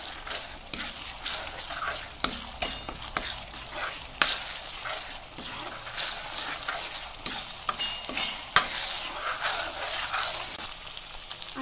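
Onion, ginger-garlic paste and slit green chillies fry in a wok for a vegetable biryani, giving a close, steady sizzle broken by frequent scraping clicks of a stirring spoon.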